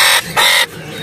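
A songbird sings at a bird-selling kiosk, giving two loud, bright bursts of shrill chattering song, each lasting about a quarter second, close by and with no voices.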